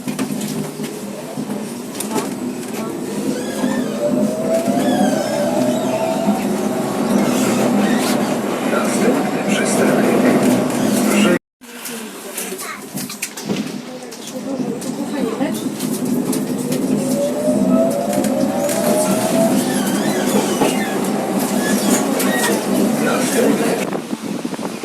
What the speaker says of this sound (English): this particular tram sounds sort of similar to the S train in London.